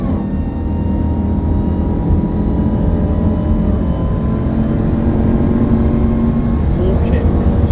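A 2018 Jeep Trackhawk SUV pulling hard from a standstill toward 140 mph, a loud, continuous engine and road roar heard from inside the cabin, holding steady for several seconds.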